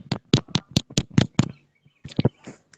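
A small classroom group in a peer teaching session claps, producing a quick run of distinct, close hand claps, a brief pause, then a few more scattered claps.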